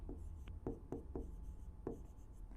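Chalk or marker writing on a board during a chemistry lesson: a few quiet, sharp strokes and taps spaced unevenly over a low steady room hum, with no talk.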